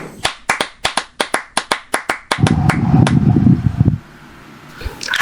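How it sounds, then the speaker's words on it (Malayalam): Audience claps for a singer at an Onam celebration, starting as a dozen sharp, evenly spaced hand claps and swelling into a loud burst of mixed applause that fades out abruptly, with a low fan hum behind. "എല്ലാരും വെള്ളപ്പശുവിന് നല്ലൊരു കൈയ്യടി കൊടുത്തേ"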